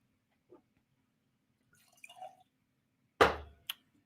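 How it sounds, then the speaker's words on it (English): Rebel 10 bourbon whiskey pours into a glass in one short, close liquid splash with a brief trickle after, following a few faint clinks and rustles in an otherwise quiet room. "I'm going to pour some Rebel 10."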